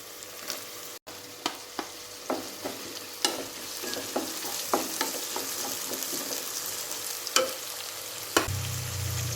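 Sliced onion is stirred into crushed ginger and garlic in a hot pan for a jackfruit seed masala. A steady sizzle runs under repeated spoon scrapes and taps against the pan, with no speech.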